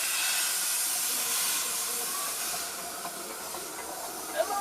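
A steam locomotive on the Bure Valley Railway at Aylsham, Norfolk, lets off a loud, continuous broadband hiss of steam close by. The hiss runs for several seconds and ends with a faint knock.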